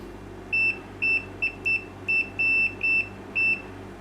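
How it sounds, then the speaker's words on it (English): Brymen TBM3030 AC clamp meter sounding its continuity beep as the probes are touched together: a series of about eight short, bright electronic beeps of uneven length, close and clear, with no talking. "It's actually a latching continuity tester, which is quite nice."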